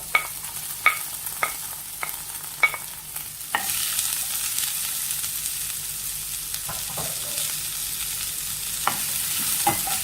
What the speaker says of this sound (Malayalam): നമുക്ക് സവാള ഒന്ന് വാട്ടിയെടുക്കാം. ഒരല്പം ഉപ്പും ചേർത്ത് കൊടുത്ത് നമുക്കിത് വാട്ടിയെടുക്കാം.